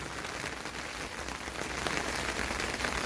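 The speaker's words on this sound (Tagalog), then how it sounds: "Maulan talaga." Heavy rain heard while walking outdoors toward a workplace, a dense, steady hiss of drops on surfaces, loud and continuous for the whole moment, with no talk.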